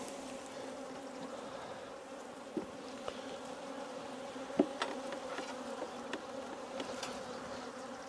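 Honey bees shaken into a brood box hum in a steady, fairly soft drone, with a few sharper buzzing flares and small knocks scattered through the eight seconds, and no voices.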